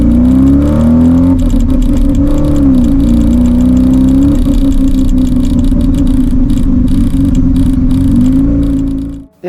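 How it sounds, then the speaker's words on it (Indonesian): Rotary engine of a Mazda 323 GLC running loud and close, a deep, steady drone that dips and swells slightly with small throttle changes before cutting off at the end. "Ya tentunya dengan rotary engine suara yang menggelegar-gelegar ini"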